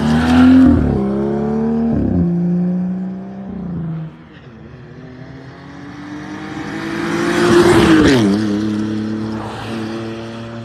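Performance cars, a pack of BMWs and a small Volkswagen Golf, rev hard and accelerate past one after another, engine notes rising and falling with sharp upshifts and late braking, loud and close with no talking.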